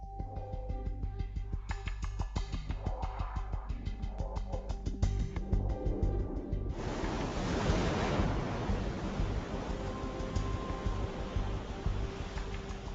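Heavy storm waves pounding at sea around a large container ship, first rhythmic rumbling surges, then a loud roaring wash of crashing water and wind noise that stays continuous to the end.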